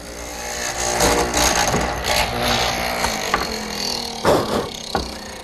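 A mortising machine bores a square mortise in wood with a rough grinding, rattling bite, its intensity rising and falling with each plunge, and a couple of sharper knocks near the end.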